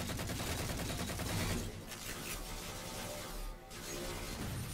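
Sustained gunfire in a Halo 4 Team Slayer multiplayer match, dense continuous bursts filling the whole stretch, briefly thinning for a moment twice before picking back up, with no talk over it.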